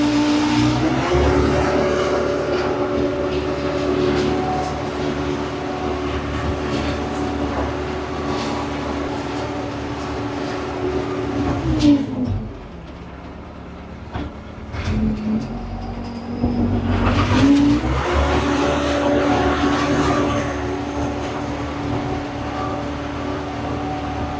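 A tractor's diesel engine drones steadily nearby while grading dirt for gravel, revving down briefly midway before climbing back to a steady working hum.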